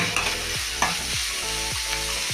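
Chopped garlic and ginger fry in a pan with a dense, loud, continuous sizzle, while a utensil stirs and scrapes in a few regular strokes, close by and without talking.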